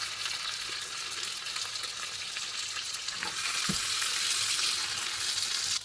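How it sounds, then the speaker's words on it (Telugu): Chicken fry with coriander and lemon juice sizzles steadily in a pan while being stirred, a continuous close crackle with a few scraping utensil knocks, growing slightly louder toward the end. "ఇప్పుడు కొంచెం కొత్తిమీర కూడా యాడ్ చేసేసుకొని ఒకసారి అలా మిక్స్ చేసేసుకున్నాము."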